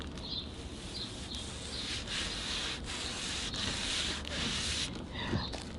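A clay bar is rubbed over car paint through a Ziploc bag, giving a soft, steady, close scraping hiss that keeps up with faint strokes for several seconds.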